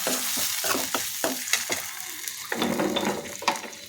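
Cooked lentils stirred into a hot pan of turmeric-spiced tempering for North Karnataka-style khara dal, a spoon scraping and stirring in repeated strokes over a steady close sizzle, with no talking.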